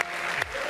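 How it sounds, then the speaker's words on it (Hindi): An audience at a comedic spiritual talk breaks into brisk, close clapping, a short dense burst of applause. "अब ताली बजाओ।"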